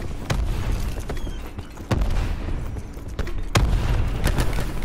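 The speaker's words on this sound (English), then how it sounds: "Look at the explosions" Explosions in the video game Black Ops 4, several loud sharp booms breaking at irregular intervals over dense rumbling battle noise, with no talking.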